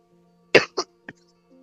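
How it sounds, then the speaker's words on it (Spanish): A single person coughs in a short sharp burst followed by two smaller coughs, close and clear against a faint steady hum. "Le pegó la tos, le pegó la tos."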